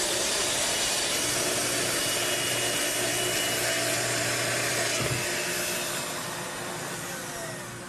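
A Festool TS 55 plunge saw cutting plywood along a guide rail gives a loud, dense, steady whirring roar that holds for several seconds and then slowly dies down.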